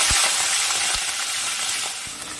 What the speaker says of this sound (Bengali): তেল গরম হয়ে গেছে, ফোড়নে দিচ্ছি তেজপাতা, গোটা জিরে, তাতে কুচনো চিংড়ি মাছগুলো দিয়ে দিলাম